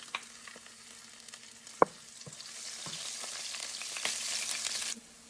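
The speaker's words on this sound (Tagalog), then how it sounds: "So, una kong igigisa ay yung bawang." Garlic sautéing in leftover oil from frying tilapia, a steady sizzle with occasional scrapes and taps of a spatula that grows louder as the stirring continues.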